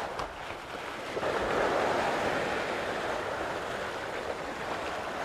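Heavy waves surge against a rocky shore during rock fishing for grey sea chub, a loud, continuous rolling wash swelling and easing, with wind buffeting the microphone.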